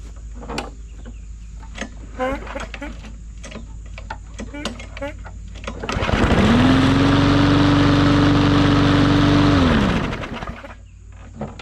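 Lawn mower engine, recently given a carburetor rebuild after being left out in the rain, catches after some light clicking and handling noises, runs loudly and steadily for about four seconds, then cuts out.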